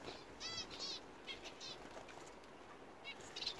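A young pheasant flaps its wings as it flies up near a smallholding bird enclosure, giving several short, faint bursts of wingbeats spread across a few seconds, with small chirps at the end.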